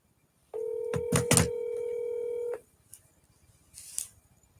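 Touch-tone dialing on a telephone: a steady dual-tone beep held for about two seconds, with a few quick keypress tones over it, then near silence broken by small clicks and a short burst of hiss.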